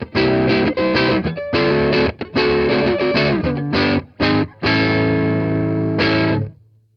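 Electric guitar on the neck pickup played through an Armored Amplification Little Rascal low-watt combo amp, loud distorted chords in choppy bursts with brief gaps, ending on a ringing sustained chord that fades out.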